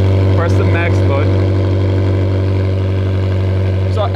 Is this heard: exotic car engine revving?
yes